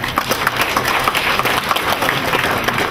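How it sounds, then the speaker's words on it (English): Dense, steady applause from a conference audience at a forum session, many hands clapping together at an even level for the whole stretch, with no voices standing out. "we would also like to thank our presenters and guest panelists with another round of applause"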